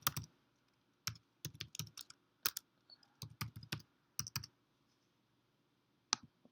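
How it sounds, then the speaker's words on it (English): Credentials are typed on a computer keyboard in short bursts of close, crisp key clicks separated by pauses, ending with a single final keystroke. "So I'm going to type my credentials."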